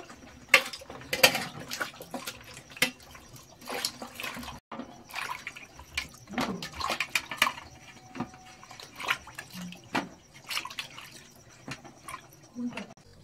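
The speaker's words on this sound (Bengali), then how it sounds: "তো সবজিগুলি সব রকম ধুয়ে নেব।" Vegetables being washed by hand in water, irregular splashes, drips and clinks of a vessel close by, with brief pauses between bursts.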